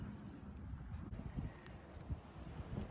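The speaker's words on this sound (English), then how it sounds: "the wind is blowing" Cold wind gusts outdoors at around 40 degrees where husky puppies play, a steady low rumbling buffet across the microphone throughout with no speech.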